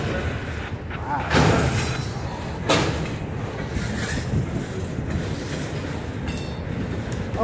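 A Norfolk Southern autorack freight train rumbles past close by, broadband rolling noise with a couple of louder bumps, steady throughout.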